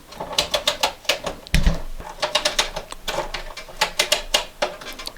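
Rapid mechanical clicking as the punch card on a knitting machine advances while its knob is turned, a dense run of sharp ratcheting ticks with a brief clunk partway through, close and fairly loud.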